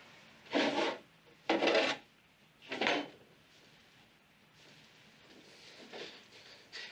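A wooden drawer is pulled and pushed in three distinct scraping strokes, close and fairly loud, followed by fainter rubbing and shuffling in a quiet room.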